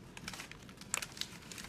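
Plastic treat bag crinkling softly while orange Halloween ribbon is wrapped around it, a series of faint, close rustles and crisp ticks with no talking.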